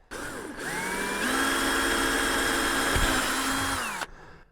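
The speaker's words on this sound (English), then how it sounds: "I'm going to drill a pilot hole for the big hole" A power drill whirs up, holds a steady high whine for a few seconds, then stops abruptly; close and loud. Drilling a pilot hole aboard a Jeanneau Merry Fisher 895 boat during an electronics upgrade.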